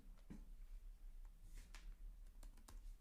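Typing code on a computer keyboard, with soft, irregular key clicks in quick bursts, faint and close, with no talking.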